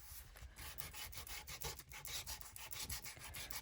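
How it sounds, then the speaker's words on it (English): Close, rhythmic scraping as the ends of paper are sanded for a junk journal craft, a fast run of short rasping strokes repeating steadily with no talk. "I wonder if it sands. And look, it does."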